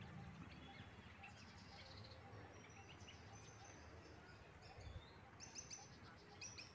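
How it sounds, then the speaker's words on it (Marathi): Birds chirp faintly in the distance at a Ganpati temple beside a pond, with scattered high tweets over a low, hushed outdoor background. "मस्त असा पक्ष्यांचा आवाज येऊन राहिला।"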